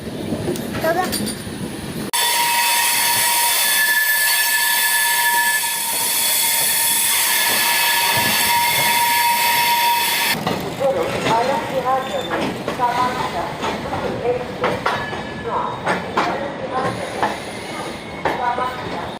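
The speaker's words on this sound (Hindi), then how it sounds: "हम लोग पहुंच चुके हैं कानपुर सेंट्रल रेलवे स्टेशन" The Northeast superfast express from Delhi's Anand Vihar runs loud and close on the rails toward Kanpur Central, with a long piercing wheel squeal giving way to rumbling, clattering carriage noise and voices nearby.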